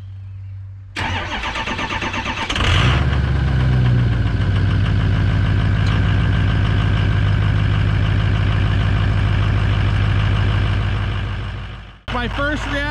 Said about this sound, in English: Let's fire the truck up and see how long it takes to crank